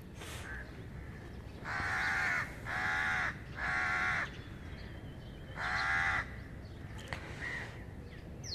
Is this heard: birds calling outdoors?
yes